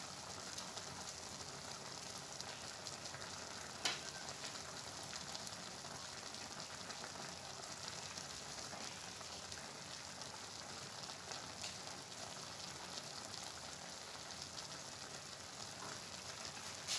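Onion frying in oil for a new-style Indomie noodle dish gives a steady, faint, even sizzle, a soft continuous crackle with a small pop near the start and no talking.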